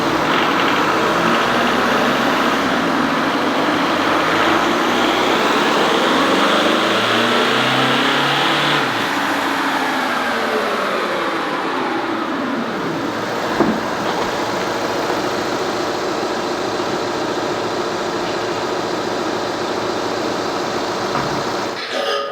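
A Volkswagen Jetta TDI diesel engine revs hard on a dynamometer, a loud continuous roar that climbs and falls in pitch as the run sweeps through the rev range, with no voices over it.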